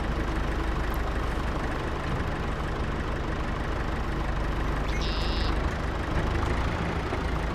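A small tractor's engine idles steadily at close range inside Farming Simulator 22, a constant low droning rumble that runs unbroken with no talking over it.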